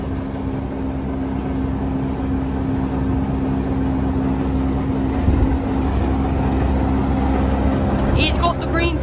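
A steady low diesel engine rumble from a Class 33 locomotive idles continuously, with a constant hum and faint background noise, and a brief higher-pitched sound near the end.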